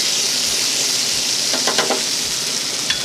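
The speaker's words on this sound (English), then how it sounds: "I'm going to saute that up really quick." Chicken sautés quickly in a hot pan for chicken lo mein, giving a steady, loud sizzle throughout with a few soft stirring scrapes partway through.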